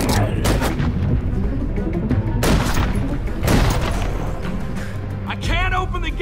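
Repeated gunshots and heavy booms in The Walking Dead: A New Frontier video game, loud and close, with bursts coming in uneven clusters while voices shout over the fire.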